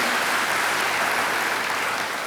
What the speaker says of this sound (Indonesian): Tepuk tangan bagi dia, haleluya.